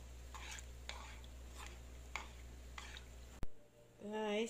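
Crushed chocolate being stirred in a pan until it melts into syrup, heard as soft regular scraping strokes over a steady low hum, ending with a short burst of other noise.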